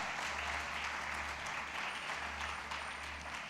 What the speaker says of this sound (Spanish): ¿Alguien puede dar un aplauso al Señor en esta noche?